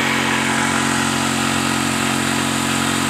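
A motorcycle engine runs steadily at a constant idle-like pace, rigged to pump rainwater out of a wheat field; the loud, continuous drone holds unchanged throughout with no speech.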